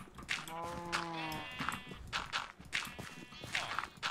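Blocky Minecraft sheep bleat a few times in quick succession, moderately close, with soft footsteps in between on a farm of dirt and grass.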